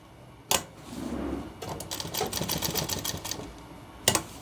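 A sewing machine stitching a shirt, running in a short burst of rapid, fairly quiet mechanical clatter, with sharp clicks near the start and end.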